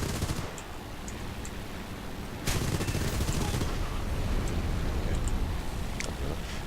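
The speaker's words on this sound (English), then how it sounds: "The guns on this seem a lot more powerful than they used to actually." Machine guns of an A6M5 Zero fighter firing in the War Thunder game, dense rapid bursts over a constant roaring engine drone, growing louder midway.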